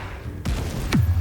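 Confringo fire spell blasts in Hogwarts Legacy on PS5, two sharp explosive bursts about half a second apart, the second louder with a booming low tail, over faint game ambience.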